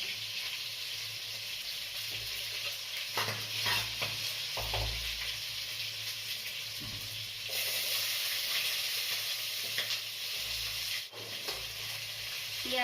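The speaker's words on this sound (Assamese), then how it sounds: "তেল গৰম হৈছে, এতিয়া দিছোঁ ইয়াতে কেইটামান জিৰা।" Cumin seeds sizzle in hot oil in a pan with a steady broadband hiss, interrupted by stirring scrapes and a few bumps, and the frying swells louder partway through, with no talking.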